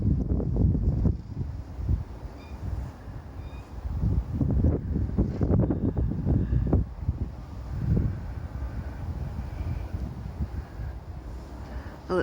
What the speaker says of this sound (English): it's still very windy now